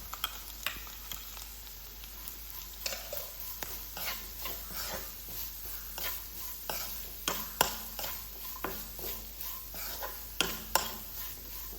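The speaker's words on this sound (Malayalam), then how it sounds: "ചതച്ച് വെച്ചിട്ടുണ്ടല്ലോ അത് ഇതിലേക്കൊന്ന് ചേർത്ത് കൊടുക്കും എന്നിട്ട് നന്നായിട്ടൊന്ന് മിക്സാക്കി കൊടുക്കാം" A spoon stirs ground coconut and green chilli into cooked jackfruit seeds in a pan, giving soft repeated scrapes and clinks over a faint steady sizzle, fairly quiet and close.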